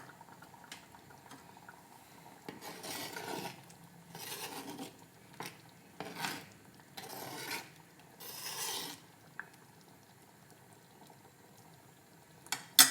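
A spoon stirs a boiling mango prawn curry in a pot, with several rasping scrapes in separate bursts over a soft bubbling background, heard close and without talk.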